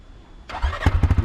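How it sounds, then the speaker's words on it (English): A quad bike engine cranks briefly, catches and settles into a throbbing, chugging idle, heard close up with no talk. "I'm just having a go on the quad bike."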